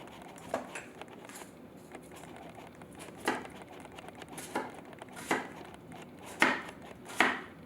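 Onions being chopped on a board with a knife, a handful of distinct near chops at irregular intervals over quiet background, no talk.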